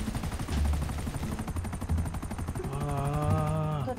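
Rapid automatic gunfire in GTA 5 rattles in continuous bursts, with a rising whine of machinery near the end.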